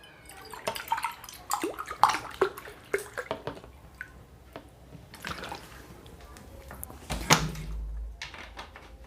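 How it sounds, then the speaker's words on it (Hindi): Water from a glass poured into a mixture, splashing and trickling in short bursts with scattered drips and small clinks, close by and moderately loud, with brief speech-like sounds between pours. "1 गिलास पानी डाल दिया"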